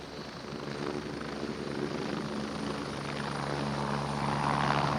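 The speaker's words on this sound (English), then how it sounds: "The A109 helicopter that we see going to our right" An A109 helicopter flies past during an armed forces capability demonstration, its steady rotor thrum and turbine whine holding at a constant, fairly loud level and swelling slightly as it passes, with no talk over it.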